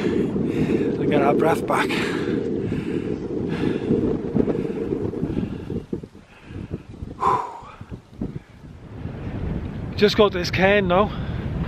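Wind gusts across a mountain summit cairn in the Black Mountains of the Brecon Beacons, about 811 metres up, roaring steadily into the microphone while a hiker talks over it.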